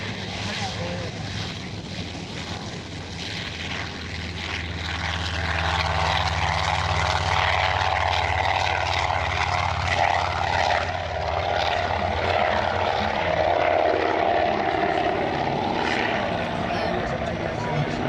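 A powerful vintage propeller aircraft at an airshow, flying for the first time after engine problems, drones steadily and swells louder midway as it passes, a sustained engine roar with people talking faintly underneath.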